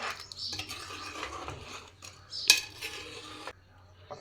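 A utensil stirs chicken tomato curry in a metal pan, scraping and clinking close by in uneven bursts, with one sharp metallic knock partway through.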